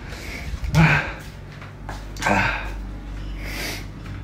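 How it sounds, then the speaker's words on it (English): A sharp sneeze bursts out near the start, outdoors in the morning on Ko Samui, followed by a second, lighter sneeze-like burst and some breathy sounds; speech is heard around it. "I'm gonna sneeze. I have to sneeze."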